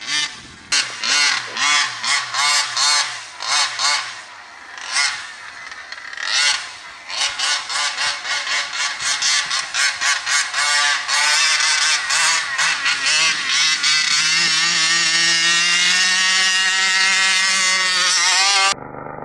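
An RC monster truck spinning its tires in snow, its electric motor whining in loud rising and falling bursts that build into a sustained high-pitched scream toward the end, alone with no talk.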